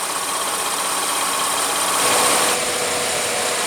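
A 2016 Chevrolet Colorado Z71's 3.6 L V6 with direct injection and variable valve timing runs steadily at close range, a constant, dense mechanical drone that swells slightly midway, with no voices.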